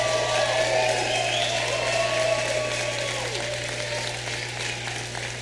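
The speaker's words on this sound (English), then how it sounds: "Let's give a great round of applause to Rebecca as well." An audience at a Wisconsin campaign rally applauds Lieutenant Governor Rebecca, a steady dense wash of clapping that holds through the clip at an even level, with a low constant hum and faint tonal lines running underneath.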